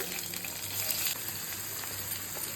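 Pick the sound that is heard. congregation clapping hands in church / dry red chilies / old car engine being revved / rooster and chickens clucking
dry red chilies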